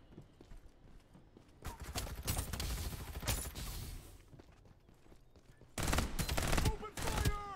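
Gunfire in the Farlight 84 shooter game comes in rapid automatic bursts of varying loudness, heavier toward the end, with game effects and a voice callout mixed in.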